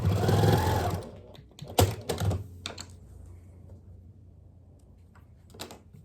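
Sewing machine sews along both sides of a pleated beard mask: one loud, fast run of stitching, then scattered clicks and short mechanical taps as it slows and stops.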